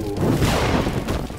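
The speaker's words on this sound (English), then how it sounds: "didn't even do that much damage with the explosion of the knight" A knight blows up in the Skyworld VR strategy game, making a dense, loud rumbling blast with crashing debris. It fills the whole moment at steady strength.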